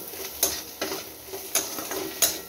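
Onions frying in a pan for potol bhorta, with mustard oil as the preferred cooking fat: a faint, steady sizzle broken by a few sharp, evenly spaced clinks of a utensil stirring against the pan.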